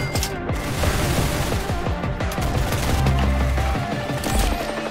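Gunshots in the Roblox shooter Arsenal, rapid loud shots firing in dense volleys throughout, layered with booming hits and clattering game effects, no talk.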